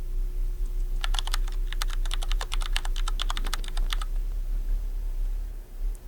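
Keys clatter in a quick, uneven burst of typing on a computer keyboard as a prompt is entered, close and crisp over a low steady hum, then stopping near the end.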